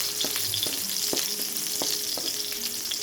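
Garlic frying in a pan for chicken drumstick adobo, giving a constant loud sizzle with a few scattered scrapes and taps of a spatula, no voices.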